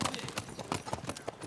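Horses' hooves clip-clop in a quick, uneven rhythm as they are gathered on a central Montana cattle ranch, the Circle Bar, with close, steady hoofbeats throughout.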